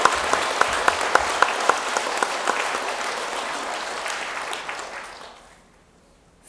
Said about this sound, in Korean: 한번 일어나서 박수 한번 받으시기